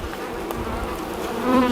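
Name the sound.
honey bees buzzing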